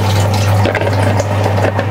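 Water drains steadily from a 4ft aquarium tank, a continuous close gurgling flow with a low hum underneath and no voices.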